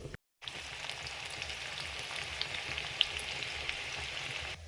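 Onions frying into crisp beresta for a biryani give a steady, dense sizzle and crackle throughout, close and fairly loud, after a brief silent gap at the start.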